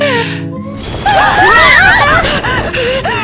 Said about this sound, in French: le téléphone sonne pour de vrai